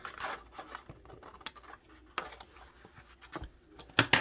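Scissors snip at the corner of a paper envelope in a craft session, producing a handful of quiet, separate crisp cuts and paper rustles spread over a few seconds, close to the mic.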